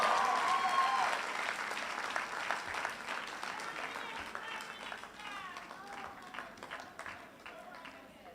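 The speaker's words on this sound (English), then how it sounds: "The applause of the audience really indicates that you're the best person for this award." A graduation ceremony audience applauds an award recipient, a broad wash of clapping that is loud at first and gradually thins, with voices talking over it.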